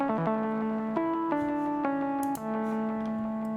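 A Phase Plant synth lead patch plays alone as a bright melodic line with distinct note changes and a steady sustained tone.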